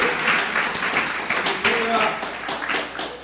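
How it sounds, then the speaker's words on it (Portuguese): A church congregation claps together in steady applause, a broad rustling patter that carries under a voice speaking through it. "Dê uma salva de palmas ao Senhor."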